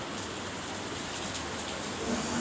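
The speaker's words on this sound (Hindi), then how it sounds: "यार बारिश तेज़ हो गई यहाँ पे, काफ़ी तेज़" Heavy rain falling during the monsoon in Delhi, a dense, even hiss of countless drops pouring steadily and close, with no voices.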